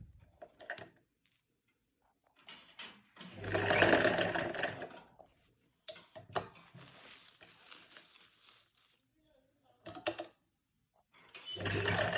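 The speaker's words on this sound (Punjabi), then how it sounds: "ਹੁਣ ਆਪਾਂ ਇਹ ਇੱਥੋਂ ਫੇਰ ਸਲਾਈ ਸ਼ੁਰੂ ਕਰਨੀ ਹੈ" A sewing machine stitches a finishing strip onto a dupatta, running in short close whirring bursts of a few seconds each, separated by quiet pauses, with no talking.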